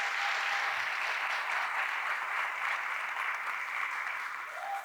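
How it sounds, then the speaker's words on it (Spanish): A church audience gives mothers a sustained round of applause, steady and fairly even from start to finish, heard alone without talk. "les damos un aplauso bien fuerte nuevamente"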